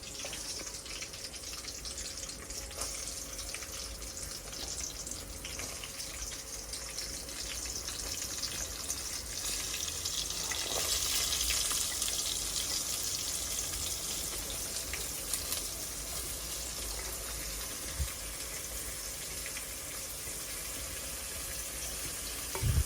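Onions added to hot oil, a soft steady sizzle and hiss of frying that swells briefly midway, with faint stirring clinks.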